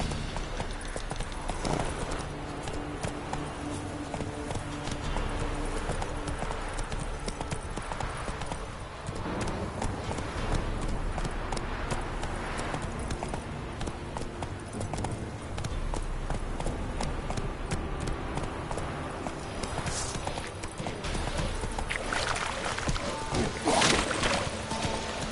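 Hooves of the horse Roach gallop in The Witcher 3, a steady rapid clip-clop rhythm running throughout at close range, with no talking.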